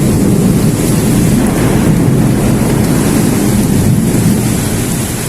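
Heavy rain pours over a balcony garden during a storm, making a dense, loud, unbroken roar that stays steady from start to finish with no distinct thunderclap standing out.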